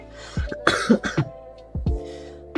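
Several harsh coughs in two bursts, close and fairly loud, with a short quiet gap between them.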